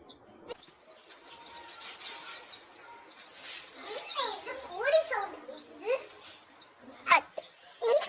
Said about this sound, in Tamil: இது கோழி குஞ்சு சவுண்ட் கேக்குது.